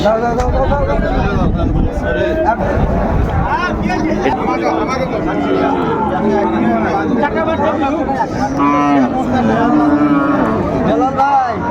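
A Sahiwal cow and calf at a village cattle market in Dinajpur, mooing repeatedly and loudly amid constant crowd chatter and nearby voices.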